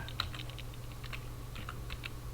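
Quiet, close typing on a computer keyboard, with irregular clusters of light key clicks over a low hum.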